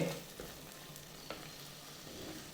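Prawns are stirred into a ghee roast masala in a pan, giving a quiet, steady sizzle with occasional scraping clicks of a spoon against the pan, and no talking.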